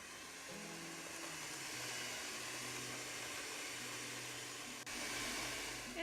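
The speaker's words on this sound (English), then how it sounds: "And now I'm going to mix the 1 egg" An electric mixer whirs steadily as an egg is beaten into creamed butter and sugar for a German poppyseed cake, a continuous close drone with a brief dip near the end before it picks up again.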